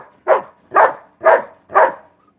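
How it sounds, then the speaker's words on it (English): A dog barks four times in a steady, evenly spaced rhythm, each bark loud and close, with short quiet gaps between and no talking. "Stop barking."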